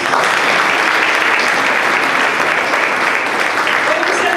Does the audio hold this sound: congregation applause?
yes